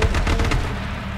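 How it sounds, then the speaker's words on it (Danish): Loud burst of repeated gunfire in the video game H1Z1, several rapid cracking shots in the first half fading into a sustained rumbling blare; no talk over it. "vi bliver skudt"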